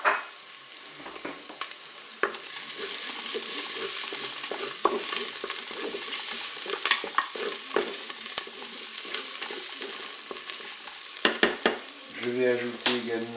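Onions and garlic frying in a Cookeo multicooker, a steady close sizzle with stirring scrapes and clicks throughout, getting busier near the end.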